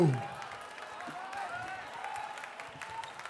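A live hip-hop MC battle crowd applauds the two MCs, with steady, moderately loud clapping and crowd noise that holds throughout.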